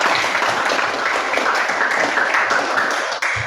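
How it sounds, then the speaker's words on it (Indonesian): Applause for students in a classroom, a steady, dense wash of clapping that holds evenly for a few seconds before tapering at the end. "tepuk tangan buat mereka"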